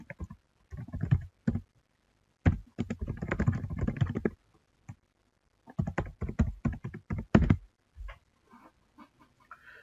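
Windows username and password being typed on a computer keyboard, bursts of quick close key clicks separated by short pauses, no talking.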